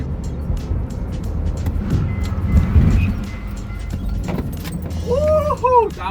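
A Honda Accord slides through a drift, its engine droning and rising while tires let out short wavering squeals near the end, with voices talking over the car noise.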